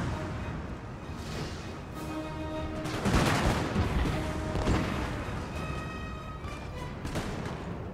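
Musket volleys and cannon fire in the Napoleonic battle game Napoleon Total War, a rolling crackle of shots swelling into heavier booms midway, then continuing as scattered distant firing.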